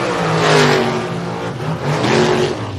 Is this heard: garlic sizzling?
no